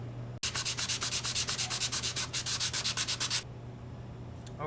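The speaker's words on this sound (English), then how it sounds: "I'm going to try sanding a little bit, see if I can get a fade going" Fast, regular back-and-forth scraping of hand sanding on wood, about twenty quick strokes in a row, close by, then stopping.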